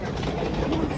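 A train rolls along its rails with a steady, loud rumble and rushing noise heard from on board, continuous for the whole second.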